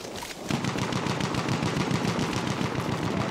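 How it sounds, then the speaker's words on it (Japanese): Rapid automatic gunfire in the video game Battlefield 1 bursts continuously after a brief quieter moment, loud and dense with a steady rattling rhythm, no voices present. "左から発砲音が結構"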